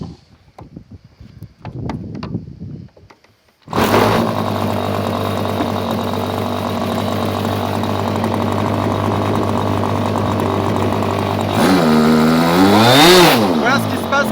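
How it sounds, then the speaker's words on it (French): A small model engine with its needle valve screwed far too lean, revving loudly and steadily for about ten seconds, then faltering with wavering, surging pitch as it struggles to pick up; faint handling noises come before it starts. "Voilà ce qui se passe quand un contre-pointeau est réglé trop pauvre. À la reprise, le moteur a beaucoup de mal."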